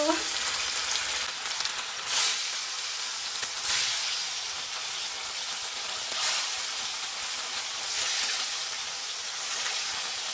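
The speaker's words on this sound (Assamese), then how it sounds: "মই এটা মাছখিনি ফ্ৰাই কৰিব ওলাইছো" Fish fries in hot oil in a home kitchen during Bihu cooking, giving a loud, steady sizzle with a few swelling bursts of crackle across the whole stretch.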